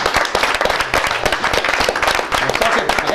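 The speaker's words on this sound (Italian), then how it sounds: "Un applauso." Studio audience applause on an Italian television show about Torino football fans, dense, loud clapping from a crowd that continues throughout.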